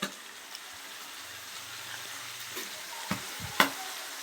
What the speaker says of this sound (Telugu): ఇవి కూడా ఒకసారి కలుపుకొని మగ్గే వరకు వేగించుకుందాం.